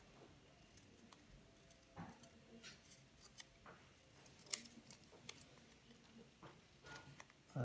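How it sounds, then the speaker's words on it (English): Scissors snip through leftover paper in a quiet room, giving a few faint, scattered cutting clicks close by with no talking. "can cut the extra paper showing"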